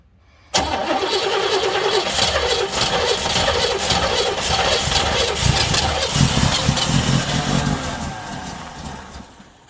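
An Oldsmobile engine cranks over with a loud, churning starter rhythm that begins abruptly and keeps going for roughly nine seconds, close by and heard alone.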